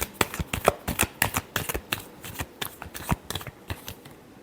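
Tarot cards are shuffled by hand in a rapid series of crisp riffling bursts, about a dozen sharp flutters spaced irregularly over a few seconds, close and fairly quiet with no voices.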